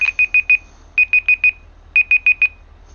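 An electronic timer alarm from a BeamNG police car driving session. It beeps in three clear groups of four quick, high-pitched tones, loud and alone, over a low hum.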